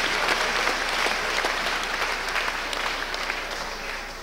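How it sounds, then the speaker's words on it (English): Steady applause from an audience at a Rise Up October rally against police terror, dense clapping filling the space for several seconds and tapering slightly toward the end, with no voices on top. "Give yourself a round of applause"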